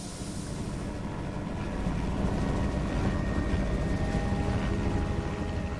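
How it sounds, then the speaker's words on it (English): A helicopter in flight over the jungle carrying passengers toward a cleared village, a steady droning rumble heard from inside or nearby, loud and continuous, with no talking. "The helicopter takes them to one of the villages that has been cleared."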